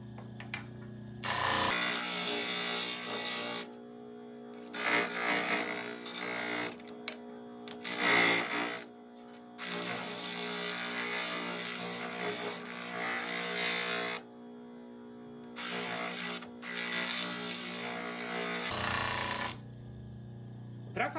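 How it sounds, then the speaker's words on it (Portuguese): Hand sanding with 180-grit sandpaper on a rear bumper, heard as loud sustained rasping strokes in long bursts separated by short pauses, close up over a steady hum. "Aqui eu estou utilizando a lixa 180"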